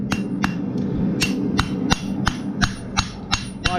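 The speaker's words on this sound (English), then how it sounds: "I'm gonna start hammering everything flat" Sharp metallic hammer blows flatten round bar stock while blacksmithing a shepherd hook, landing one after another at a steady, slightly uneven pace, close and ringing, with a faint hum in the background.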